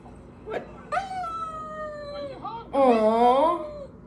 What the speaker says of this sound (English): Alexa, bark like a dog.